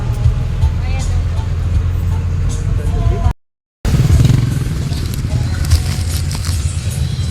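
A steady engine rumble and road noise come from inside a jeepney moving through traffic, with rattles and passing vehicles. The sound cuts out briefly partway through and then resumes.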